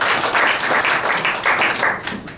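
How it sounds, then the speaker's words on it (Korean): Applause from attendees at a church audio seminar, greeting newly named group leaders, a loud, steady wash of many hands clapping together close by, fading slightly toward the end. "우리 조장님 한번 박수 한번 쳐주시고요"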